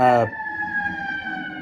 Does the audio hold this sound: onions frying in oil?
no